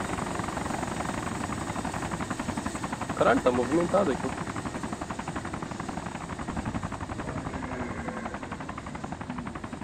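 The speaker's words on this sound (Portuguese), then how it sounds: "tem um helicóptero em cima da gente" A helicopter in the video game DayZ Origins drones steadily overhead with rapid, pulsing rotor chop, with a burst of clattering noise and someone speaking partway through.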